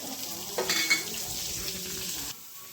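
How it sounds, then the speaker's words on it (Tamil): Onions and curry leaves dropped into hot oil with fennel seeds, crackling into a steady sizzle with a brief burst of spattering and stirring at the start, fairly quiet and close, no talking. "இப்போ வந்து நம்ம இந்த வெங்காயம், கருவேப்பிலை போட்டுக்கலாம்"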